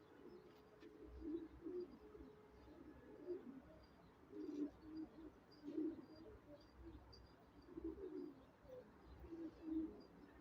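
Soft, low coos of red Aleppo pigeons repeat in a steady rolling pattern, several birds calling quietly over faint background noise.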